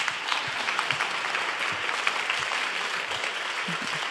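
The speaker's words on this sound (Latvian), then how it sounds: "Paldies, aplausi!" An audience claps steadily after a research presentation, a dense, even patter of many hands held at a constant level throughout, with no talking.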